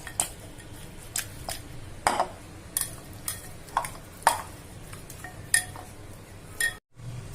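Mutton mixed with turmeric and salt in a pot, heard as a spoon giving irregular, fairly close clinks and scrapes against the metal, spaced about a second apart, with no voices.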